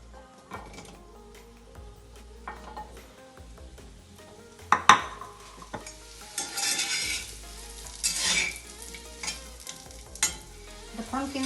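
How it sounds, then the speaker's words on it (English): Vegetables, pumpkin among them, sizzle and fry in a spoonful of ghee in a pan, with steady crackling broken by scraping stirs and utensil clanks against the pan; no talking. "I'm going to brown the vegetables just a little bit"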